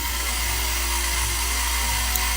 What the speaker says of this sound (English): Allow me more hairdryer noises, chat.